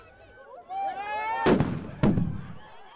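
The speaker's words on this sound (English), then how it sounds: "police, instead of supporting the march, ended up dispersing it using stun grenades." Police stun grenades go off at a protest march, two sharp, loud bangs about half a second apart, following high raised voices and whistling from the crowd.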